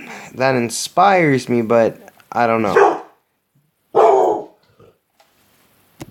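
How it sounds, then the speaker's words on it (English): A dog barking in the background of a home recording, a few sharp barks mixed in while someone talks close to the microphone, with short pauses between phrases. "Sorry about the dog there"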